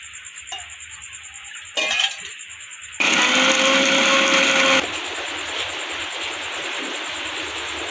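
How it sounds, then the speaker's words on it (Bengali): Onion, chillies and garam masala whirring in a kitchen blender with a splash of water, a loud steady grinding burst preceded by clinks of the jar and followed by a quieter motor hum. "যে পেঁয়াজ কাটা, এই যে কটা লঙ্কা আর গরম মশলা দিয়ে করে এখন আমরা এটা বাটবো।"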